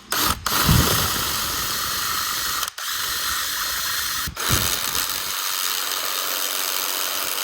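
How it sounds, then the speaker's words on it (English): A power drill bores a hole into a pit bike part, whirring steadily with grinding and rattling, broken by two short pauses where the bit stops and restarts; close and fairly loud, no voices. "So we'll keep drilling into this and go from there."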